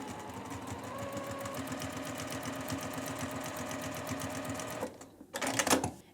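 A sewing machine runs steadily, stitching a quilt seam with the edge of a 1/4 inch presser foot as a guide. It keeps a fast, even rhythm for close to five seconds, pauses briefly, then picks up again for a short burst near the end.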